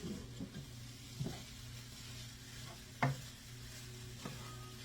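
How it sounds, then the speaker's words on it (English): Butter melts in a pan on the stove with a soft, steady sizzle and hiss, broken by a few light scrapes and taps as the pan is moved. "I'm going to melt my butter. Let me put you down a little bit, right in that pan."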